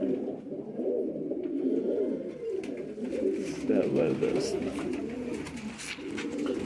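Pigeons kept in a loft coo steadily and close by, with a continuous layered murmur of overlapping calls and a brief spoken word over them.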